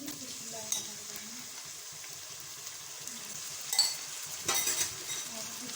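Beef keema sizzling and frying with onions in a pan, stirred now and then with a few light clinks of the utensil and a louder scrape near the end, steady close hiss throughout.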